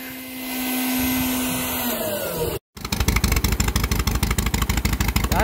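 A Miller Big 20 welder generator engine runs loud and close, first as a steady drone, then after a brief dropout as a low idle with a fast, even pulsing chug.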